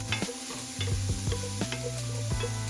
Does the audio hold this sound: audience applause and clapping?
no